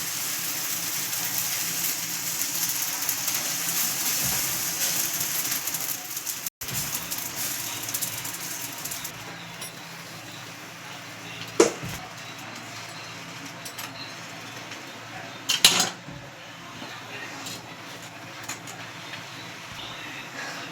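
Pav bread spread with Amul butter toasts on a hot pan, giving a steady, soft buttery sizzle-hiss that continues throughout, broken by a couple of brief clicks or knocks from handling the bread.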